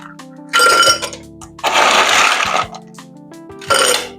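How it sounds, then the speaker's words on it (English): Ice cubes tumble and clink into a highball glass in three loud, close bursts separated by short pauses, with no talking. "Fill the highball glass with the ice cubes."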